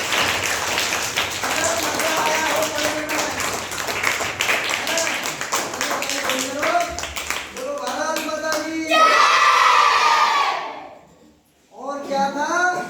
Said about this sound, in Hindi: तो एक बार जोरदार ताली बजा दीजिए।